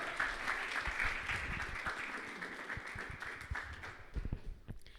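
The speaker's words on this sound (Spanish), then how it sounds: "la recibimos con un aplauso a Yasmín" Steady applause from a seated audience welcoming a guest speaker at a science talk on bioenergy, dense clapping at moderate distance that thins out and fades toward the end.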